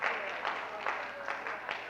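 Students in a university art history lecture hall applaud, producing steady dense clapping across the whole moment, with a voice faintly present beneath it.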